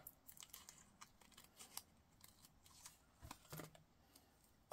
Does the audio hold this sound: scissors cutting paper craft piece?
yes